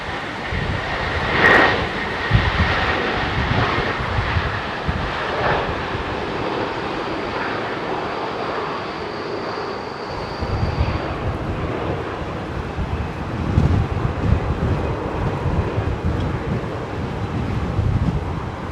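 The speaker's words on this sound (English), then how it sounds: "Qatar A350" A Qatar Airways Airbus A350 at Heathrow Airport runs its jet engines as a distant, broad rumbling roar with a faint whine, partly buried under gusty wind noise on the microphone, swelling and fading over the runway.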